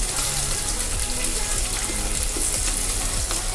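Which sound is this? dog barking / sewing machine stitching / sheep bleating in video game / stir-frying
stir-frying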